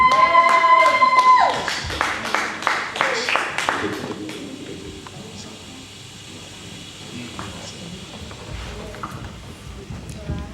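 A church congregation claps to welcome the pastor at a Sunday service. Rhythmic clapping is loud for the first few seconds, then fades under voices and crowd noise.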